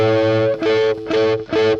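Electric guitar with distortion and effects sweep-picks arpeggio shapes, four smooth rolled bursts of notes in quick succession, loud and close with short gaps between them.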